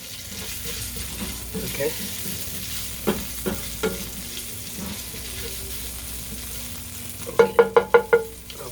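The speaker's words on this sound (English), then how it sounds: "I'm going to cook my mushrooms in there" Mushrooms sizzle softly in a pan for chicken Marsala, with a few utensil scrapes and stirs, then a quick run of sharp clacks near the end; a brief word is spoken.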